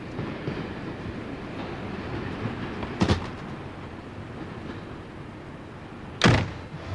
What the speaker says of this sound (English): The start of a train journey, one of the great sensations of life.